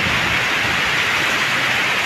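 Heavy rain with strong wind in Tacloban, a steady, loud, hissing wash of rainfall that stays dense and unbroken throughout, with no voices.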